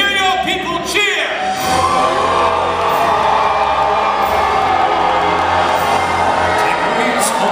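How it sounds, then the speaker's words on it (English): A large crowd at a Medieval Times tournament in Schaumburg cheers loudly and continuously, with whoops and shouts rising from the arena and voices mixed into the roar. "my lord, and hear your people cheer"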